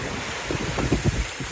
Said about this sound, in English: the sea's picked up a little bit with that wind that's now coming down Whitsunday passage